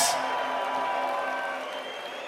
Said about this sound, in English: how about a big round of applause for these two valiant